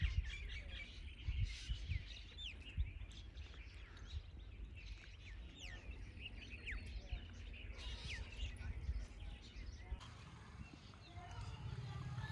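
Many small birds chirp and tweet continuously at a distance across open farm fields, with faint background noise throughout.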